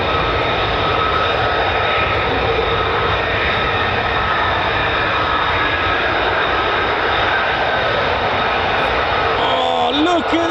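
USAF F-15 fighter jets of the 48th Fighter Wing at RAF Lakenheath make a loud, unbroken engine roar that fills the air steadily throughout.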